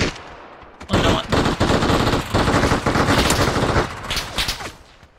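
Video game gunfire: dense, loud bursts of rapid automatic shots firing almost continuously for several seconds, then tapering into a few scattered final rounds.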